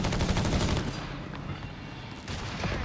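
Bomb explosion in the video game Company of Heroes 3 during a 4v4 match, a loud booming blast that rolls off into a lingering rumble, with another burst of fire at the end.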